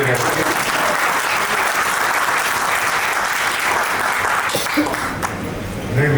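Sustained, dense audience applause fills a meeting of supporters, loud and steady throughout with no break, fading slightly only at the very end.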